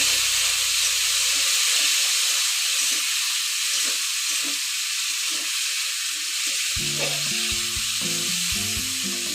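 Fried potatoes sizzle and hiss in hot oil as they are sautéed for a vegetarian cabbage curry, a steady close frying noise with clinking stirring sounds near the end.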